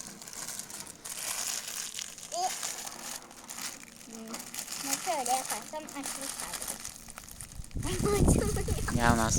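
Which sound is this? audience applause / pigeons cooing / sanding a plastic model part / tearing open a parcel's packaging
tearing open a parcel's packaging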